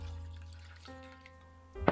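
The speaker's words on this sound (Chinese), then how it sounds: "加入清水" Clean water is poured into a bowl holding raw pork liver, making a short, close trickle and splash of liquid against the bowl over a faint background hum, with a brighter splash near the end.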